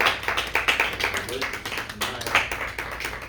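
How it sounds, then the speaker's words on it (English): A church congregation giving a clap offering, rhythmic hand claps from a group in a sanctuary, fairly close and sharp, with a voice speaking over them. "let's give the Lord Jesus Christ a clap offering"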